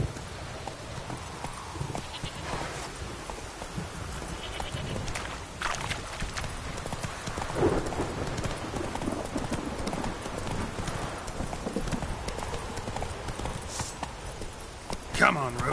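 Hoofbeats of a horse galloping in a PS4 video game, a steady rhythmic clip-clop running throughout at moderate loudness, with a voice talking over it.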